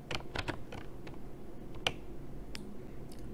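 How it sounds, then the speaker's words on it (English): A password is typed on a computer keyboard: a short burst of about eight quiet, crisp key clicks in uneven rhythm, close to the microphone and alone. "Type in your chosen password and confirm it by typing the same password again."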